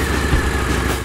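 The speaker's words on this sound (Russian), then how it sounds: "пора катнуть на этом удивительном мотоцикле" A Harley-Davidson V-Rod VRSCR Street Rod motorcycle idles with a loud, steady, close rumble throughout the brief moment, with no voices.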